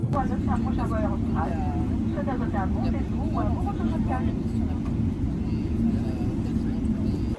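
Airliner just landed on La Réunion, its steady loud engine rumble filling the cabin while passengers talk over it.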